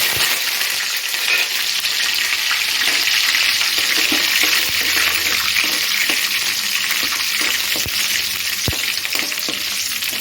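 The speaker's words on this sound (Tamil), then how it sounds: "1 ஸ்பூன் கடுகு போட்டுக்கலாம். கடுகு பொரிஞ்சதுக்கப்புறம்" Mustard seeds splutter in hot oil for mango pachadi, making a loud, dense crackling hiss with scattered sharp pops and ticks throughout, close and without voices.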